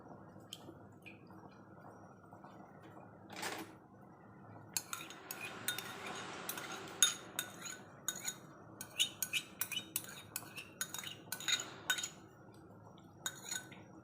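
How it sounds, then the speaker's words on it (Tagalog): Utensils clinking and scraping against a bowl while soy sauce marinade ingredients are mixed for Chinese chicken char siew, quiet stirring early, then a busy run of sharp close clinks and taps. "kailangan nating i-mix yung ating mga soy sauce, mga ingredients natin for today"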